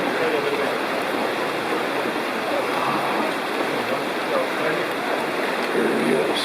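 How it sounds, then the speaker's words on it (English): Waterfall in a canyon at Zion National Park, a steady broadband rush of falling water heard from some distance, constant and even throughout, with voices faintly present. "There's a beautiful waterfall"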